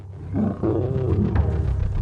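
An adult male lion on the savanna gives a deep, loud, drawn-out roar, rising and holding for about two seconds at close range with no other sounds.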